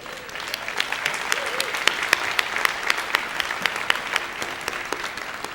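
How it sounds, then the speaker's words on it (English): Steady applause from a large crowd, many hands clapping continuously throughout with no voices standing out. "would Chris Bruner please stand with Park Place Lexus Plano so that we may applaud you"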